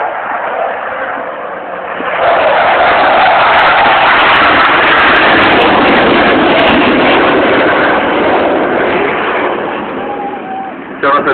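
A Hawker Hunter jet performs a flying display at the Southport air show, its broad roaring rush swelling loud and sustained as it passes, with a public-address commentator talking over it.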